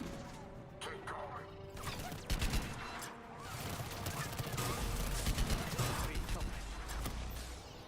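Rapid gunfire in the video game Mass Effect 3, a dense, fairly quiet fusillade of shots and impacts running steadily through the moment, with a voice speaking over the action.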